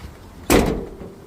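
Door on a 1990 Ford Bronco under rear quarter panel repair shuts with a single close, solid thud that rings briefly and fades, with no talk.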